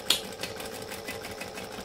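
Short bursts of a sewing machine top stitching a flat, straight bag gusset, fairly quiet and close, with a small click at the start.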